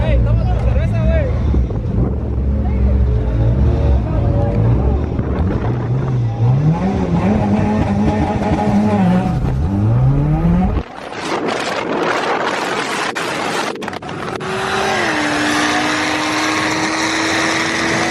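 Front-wheel-drive car launching hard at a drag race, engine revving up through rising gears before a sudden cut, then another engine note climbing in the background, with crowd chatter and voices throughout.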